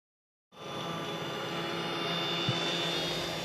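A drone flies in a played TV news clip from a defense research agency demo, giving a steady, continuous engine whine and hum with faint tonal lines that holds at even loudness throughout, with no talking.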